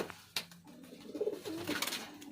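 A Grizzle pigeon coos in a soft, repeated rumbling call, close by, with some rustling and handling noises around it.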